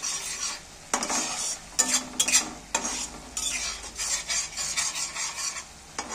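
Egg curry spices with chili powder sizzle and fry in a pan while a utensil stirs and scrapes repeatedly in uneven bursts, close and fairly loud, with no talking.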